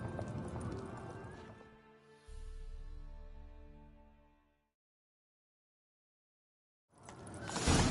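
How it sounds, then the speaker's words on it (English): Rhythmic hoofbeats of a galloping horse in The Witcher 3: Wild Hunt thud at close range, then fade away into silence before a burst of noise returns. "Grab a horse, we'll chase him down."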